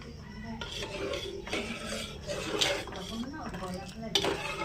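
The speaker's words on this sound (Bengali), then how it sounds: "এবার দুধটা ওর সাথে মিশাবো। সাথে ওই ক্যারামেলটা আস্তে আস্তে মিশিয়ে দেবো।" A spoon scrapes and clinks against a pot as caramel is stirred into boiled milk for making yogurt, a steady, moderately quiet scraping with occasional metallic taps, while a person speaks now and then.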